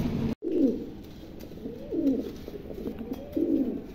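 A pair of red Henna Putar pigeons coo in a series of soft, rolling low calls, three or four phrases repeating close by with a brief gap near the start.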